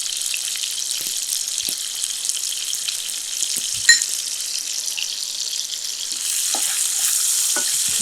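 Onions sautéing in a pan for mutton and okra fry, a constant frying sizzle with occasional soft stirring knocks and a slight swell toward the end, with no one talking.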